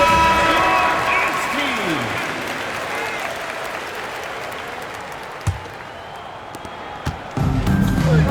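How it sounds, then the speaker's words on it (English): An NBA arena crowd at a Celtics–Kings game applauds the dance team loudly with a dense wash of clapping, thinning slightly midway, with occasional thuds and a voice over the noise. "Please give a big round of applause for your dance team."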